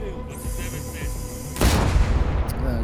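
A Polish self-propelled mortar in Ukrainian service fires a round: a single sudden loud blast about halfway through, followed by a sustained roar and rumble over faint background voices.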